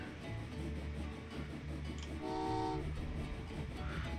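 An electric train in the railway puzzle video game Train Valley 2, set in Venice, rumbles along steadily and quietly, with a short two-tone horn toot in the middle.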